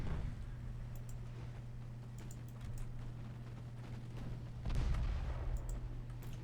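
Warship gunfire in the naval combat game Ultimate Admiral Dreadnoughts, heavy booms landing over a steady low engine hum, with the loudest blast near the end of the stretch.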